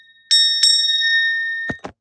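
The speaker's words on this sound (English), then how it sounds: "I'm gonna do this little tree bell." A small tree-shaped bell strikes twice, each ring bright and sustained with a long shimmering decay, followed by two short dull knocks as it is handled or set down, close by and alone.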